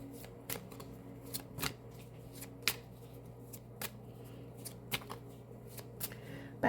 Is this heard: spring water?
no